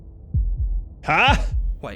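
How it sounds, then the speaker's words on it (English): Slow, deep heartbeat thumps in the video game Slay the Princess, several low pulses at a steady beat, with a voice speaking briefly over them. "That was the sound of a heartbeat, followed by another."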